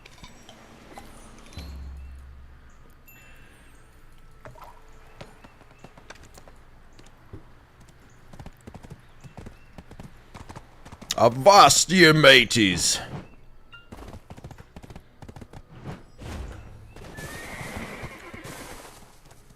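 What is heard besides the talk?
horse hooves and whinny in a video game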